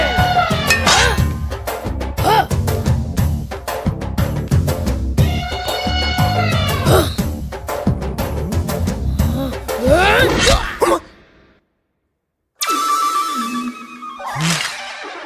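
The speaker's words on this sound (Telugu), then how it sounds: "ఈ రింగ్ టోన్ విన్నావా? ఇది పిల్లల అరుపు." A phone ringtone that sounds like children screaming plays loud, shrill and wailing in a film scene, with rapid pulsing cries that continue steadily, break off into silence, and then resume briefly.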